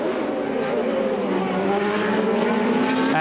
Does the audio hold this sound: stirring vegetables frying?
no